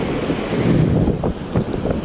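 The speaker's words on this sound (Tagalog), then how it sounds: "Kasi malakas yung hangin" Strong wind buffets the microphone in heavy gusts, a loud rumbling roar with a few thumps near the end.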